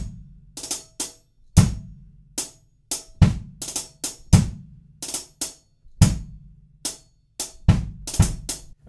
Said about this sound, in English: we can throw a little drag on a couple of the notes on the hi-hats